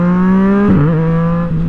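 A 2018 Yamaha MT09 motorcycle's exhaust drones close and loud, a steady harmonic engine note that dips briefly mid-way as the revs shift, then settles back.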